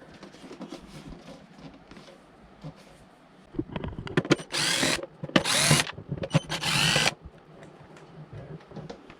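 A power screwdriver removes the screws from a Philips HD 2139 pressure cooker's heater frame, several short close whirring bursts over clicks and handling noise.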